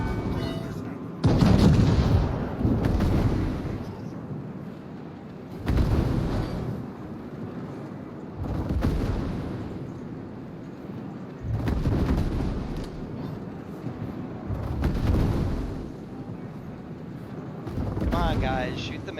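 Ship guns firing in the World of Warships naval combat game, heavy booming salvos repeating every few seconds with rumbling tails, mixed with a voice talking over the gunfire.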